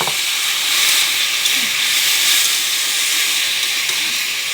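A green chilli, coriander, cumin and ginger spice paste sizzles in a hot pan, a loud, continuous, even hiss of frying that holds steady throughout without speech.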